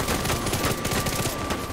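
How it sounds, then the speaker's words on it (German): Rapid burst gunfire from The Division 2, a dense, loud rattle of shots fired in quick controlled salvos with no pause. "So mit stabilen Salven ist das ganz gut hinzubekommen."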